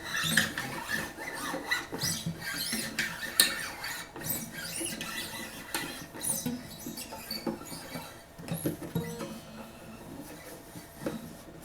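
A new string on an acoustic guitar is stretched by hand, giving a close, continuous scratchy rubbing and squeaking patter with no speech.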